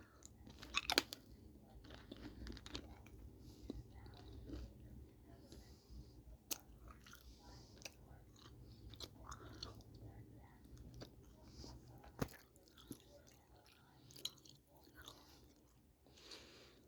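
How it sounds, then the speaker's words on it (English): Mentos candy is chewed close up in a quiet room, soft wet crunching and mouth sounds with a few sharp clicks, faint and steady throughout. "Why does the candy get worse as you chew it?"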